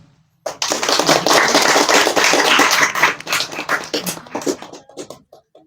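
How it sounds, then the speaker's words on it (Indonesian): A small audience at an arts and culture talk bursts into loud, close clapping that holds steady, then thins into scattered claps and fades out. "Tepuk tangan."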